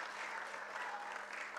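An audience at the launch event of the Tanzanian logistics and transport professionals' association gives soft, distant applause, a continuous hiss of clapping with no individual claps standing out.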